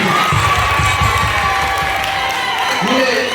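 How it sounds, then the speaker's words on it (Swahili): Applause and cheering from a choir launch audience fill the room, steady and loud with whoops and crowd noise, while a voice carries over the top. "Piga makofi mengi."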